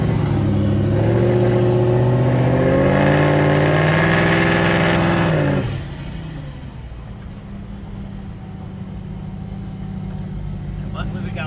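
A heavy modified diesel truck engine revs loudly with rising and falling harmonics, then drops to a steady rumbling cruise with road noise.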